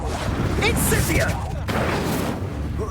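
An Incendio fire spell cast during combat in the video game Hogwarts Legacy: loud roaring, crackling bursts with booming impacts, layered with game effects and voices.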